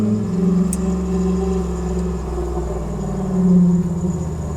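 An LS V8 swapped into a 1992 Jeep Wrangler YJ rumbles nearby with a deep, steady idle, swelling briefly into a slightly louder surge before settling again.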